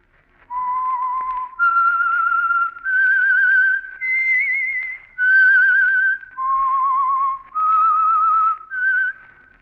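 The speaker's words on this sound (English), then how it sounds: "That whistle is your signal for the Signal Oil Program, The Whistler." A lone whistler carries a slow, eerie melody of eight long sustained notes that step up and down in pitch, clear and close with brief gaps between phrases, the theme signal of The Whistler radio program.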